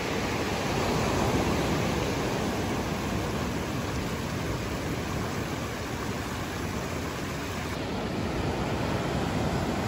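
Ocean waves washing over a rocky beach as the tide rises, a continuous broad roar of surf and fizzing water that stays close and steady throughout, with no voices.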